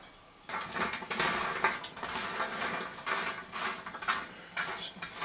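Dry baked garlic croutons rattling and clattering in a pan or tray, a brisk crisp patter in repeated bursts, close and fairly quiet.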